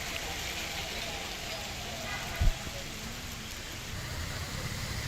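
Steady rain falls everywhere in a downpour, a continuous broadband hiss of drops with a single brief low thump partway through and a faint murmur of background voices underneath.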